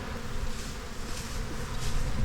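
Dense, steady drone of honey bees inside an open beehive during a hive inspection, a continuous low hum that holds at an even, close level for the whole stretch.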